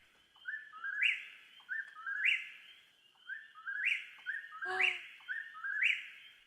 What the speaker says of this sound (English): For example, the whippoorwill.